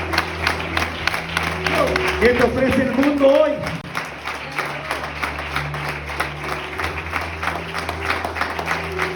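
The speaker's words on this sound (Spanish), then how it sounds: "Dale un aplauso fuerte al Espíritu Santo de Dios." A church congregation claps and cheers loudly through a Spanish-language sermon, the applause steady and dense under a preacher talking over it with amplified reverb.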